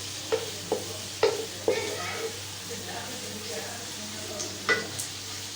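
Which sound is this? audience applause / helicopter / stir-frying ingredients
stir-frying ingredients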